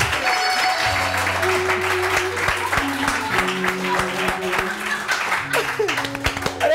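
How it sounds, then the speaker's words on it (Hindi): Studio audience applause of a morning television show, a dense burst of clapping heard throughout with voices talking over it. "तालियां तालियां।"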